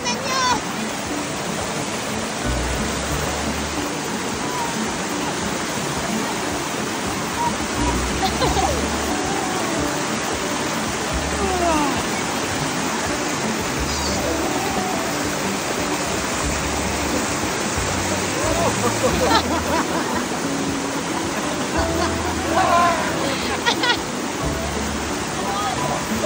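Gabur-Gabur Falls in Peñablanca, Cagayan, roars as a broad, steady rush of falling water, loud and continuous, with people talking faintly beneath it.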